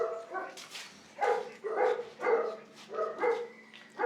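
Dog barking, yipping and whimpering in short repeated bursts, fairly close, with a steady low background hum.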